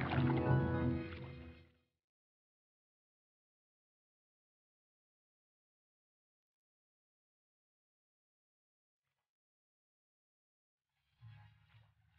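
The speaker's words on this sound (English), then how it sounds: "Slowly, we paddle down a strange and wondrous stream" A canoe paddled along a stream gives a brief burst of watery splashing and dripping, then long silence, then a faint, short return of paddle sounds.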